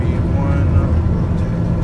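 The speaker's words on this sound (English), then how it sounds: "Takeoff power is set." A flight simulator airliner's engines are set to takeoff power, giving a loud, steady low roar and hum that stays constant from start to finish.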